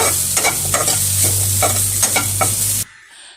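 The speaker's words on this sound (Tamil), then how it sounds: "இப்போ இதில் ஒரு முடி தேங்காய் திருவி போட்டிருக்கேன். அதையும் கொஞ்சம் வறுத்து எடுத்துப்போம்." Poppy seeds and grated coconut dry-roasting in a pan, with loud scraping strokes of a stirring spoon over a low hum and crackle, stopping abruptly near the end.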